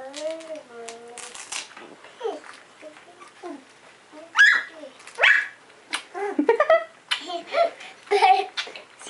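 Four-week-old English cream golden retriever puppies yip and bark in short, high, scattered bursts up close, mixed with squeaky whines while people talk nearby.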